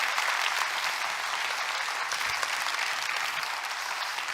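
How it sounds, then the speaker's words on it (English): A church congregation applauds students at a Student Sunday service, a dense, steady round of clapping that holds at even loudness throughout with no voices over it. "join me in just applauding them"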